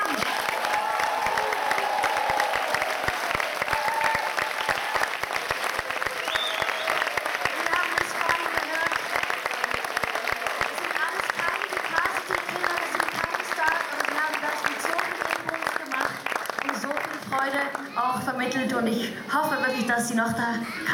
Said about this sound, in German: Applaus für die Kinder